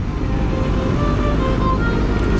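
A Kawasaki ZX25R four-cylinder motorcycle engine drones steadily and loudly during a test ride, with heavy low rumble and wind noise, no talk over it.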